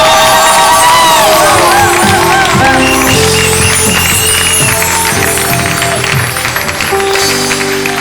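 A church congregation cheers and acclaims during a service, loud crowd voices and shouts layered over sustained music tones, dense and continuous throughout.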